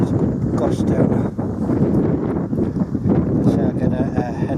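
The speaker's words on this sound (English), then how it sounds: "there's a gust there now." Strong wind gusts buffet the microphone beside a small pole-mounted wind turbine under test, a steady, loud rushing roar with gusty fluctuations throughout.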